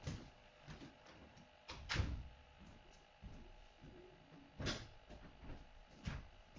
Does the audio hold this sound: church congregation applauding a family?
no